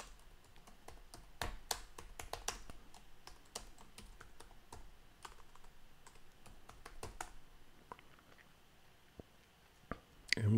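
A Linux terminal command typed on a computer keyboard, quick irregular key clicks in bursts with short pauses, close but soft, then a couple of louder taps at the end.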